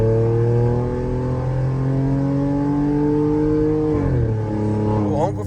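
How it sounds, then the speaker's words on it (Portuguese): Exhaust roar from a VW Polo TSI fitted with a downpipe diffuser and no remap: a steady, loud engine drone that rises in pitch under throttle, then drops with a shift near the end, heard from inside the car. "O ronco fica bacana, mesmo sem o remap, só no downpipe difusor"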